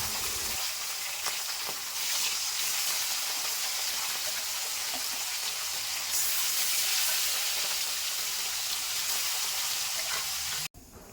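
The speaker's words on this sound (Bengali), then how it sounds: "এবার গরম তেলে মাছগুলোকে একে একে দিয়ে দিব। আমি এখানে সরষের তেল ব্যবহার করছি।" Hilsa fish pieces fry in hot mustard oil, giving a loud, continuous close-up hiss and sizzle that holds steady for about ten seconds before cutting off abruptly.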